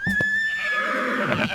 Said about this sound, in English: the horse goes neigh, neigh, neigh